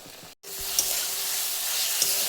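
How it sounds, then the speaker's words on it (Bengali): Butter is stirred into a sizzling spiced mixture in a pan for an onion- and garlic-free mushroom curry, making a loud, continuous hiss with a brief pause near the start and a few soft utensil knocks. "এখন বাটারটাকে এই সবগুলোর সাথে মিশিয়ে নেবো"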